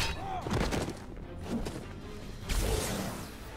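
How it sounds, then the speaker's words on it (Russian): Explosion in the video game Marvel Strike Force, with bursts of crashing, whooshing impacts and sharp bangs in quick succession, fairly loud and up close, among other game effects. "Теперь взрыв."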